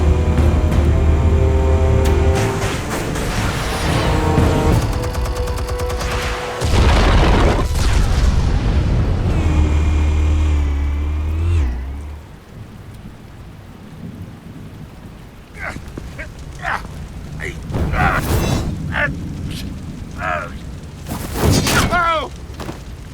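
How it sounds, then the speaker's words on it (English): Explosives detonating in Telltale's Batman game, a few heavy booming blasts with rumbling tails over the first half, then quieter scattered impacts and clatter later on. "Explosives armed. Fire when ready."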